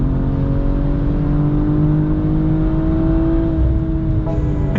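A 2022 BMW M440i xDrive engine accelerating while passing, a loud sustained tone climbing steadily in pitch from inside the car, with a brief shift near the end.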